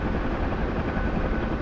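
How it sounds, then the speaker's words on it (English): Old OH-58 Kiowa helicopter in the DCS flight simulator, its rotor and turbine producing a steady, loud broadband drone that stays constant and unbroken, with no voices over it. "An old helicopter."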